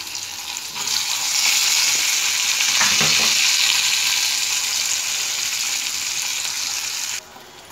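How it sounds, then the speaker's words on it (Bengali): Paneer pieces frying in a pan over a very low gas flame give a steady, close sizzle that runs almost the whole time, with a brief stirring clatter partway through and no talking. "এবার পনিরগুলো ভেজে নিচ্ছি।"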